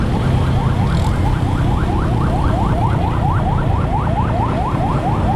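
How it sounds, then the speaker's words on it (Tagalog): Ambulance siren on a road near San Pedro, heard from a Honda Wave RSX motorcycle. A rapid, steady wail repeats at an even rhythm and sounds close and loud over constant road and engine noise. "Ambulance. San Pedro. Give way, give way."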